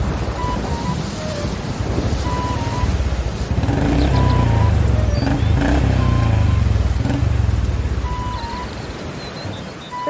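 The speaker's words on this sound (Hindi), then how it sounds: "बाइक पर सवार होकर पहुंच जाते हैं" A motorcycle rumbles steadily close by, its low engine drone swelling louder in the middle before easing off, with wind noise over the top.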